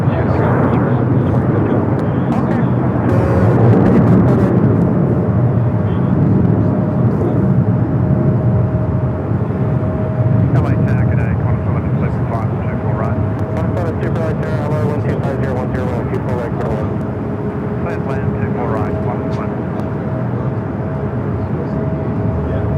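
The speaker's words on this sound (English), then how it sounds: "We're going to go to the Qantas A380 Super as the next arrival here on the north side." A Qantas Airbus A380 arrives on the north side of Los Angeles International Airport, its jet engines a loud, sustained roar that swells and slowly fades with a faint whine, while live commentary continues over it.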